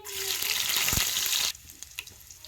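Mustard seeds and cumin sizzle loudly in hot oil with a dense steady hiss for about a second and a half, one low thump midway, then the sizzle drops to a quieter crackle with scattered pops.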